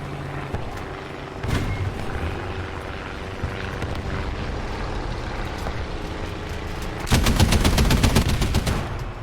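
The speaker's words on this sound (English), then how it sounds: "You can see the machine gun doesn't go very high" Machine gun fire from a British ground forces tank in a combat video game. It starts with a brief burst early on and ends with a loud rapid volley near the end, over a steady engine rumble.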